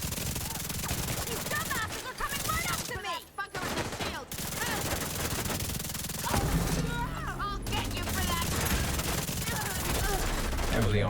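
Video game gunfire rattling in rapid fusillades and machine-gun bursts, loud and close, with brief pauses and crashing impacts between volleys, while a voice talks over the shooting.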